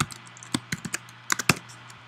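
Close, crisp clicks from a computer keyboard while Java code is typed, in irregular bursts with short pauses between keystrokes.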